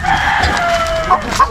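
Rooster crowing at a Filipino birthday celebration, with a couple of short, bright calls standing out over ongoing background crowd noise and chatter.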